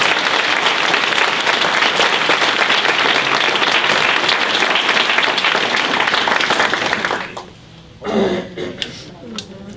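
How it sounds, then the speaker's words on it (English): Audience applause at a US Army Corps of Engineers 75th anniversary time capsule opening ceremony, a loud sustained round of clapping from a crowd that stops abruptly near the end, followed by brief talk. "let's give everybody a round of applause for just being part of it"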